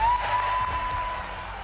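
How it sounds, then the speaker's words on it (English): Crowd applauding behind a candidate at a Wisconsin campaign announcement, a steady mass of clapping at fairly close range with a faint tone running through it and no talk. "You see the crowd behind him applauding in the announcement video that again went out today."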